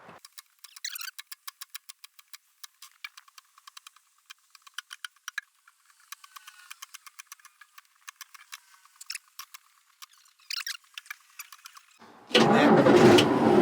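A cheap used bulldozer's engine is cranked: many sharp clicks and ticks of the starter, followed near the end by the engine catching into a loud, steady rumble close by.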